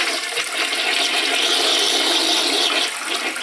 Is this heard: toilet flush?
yes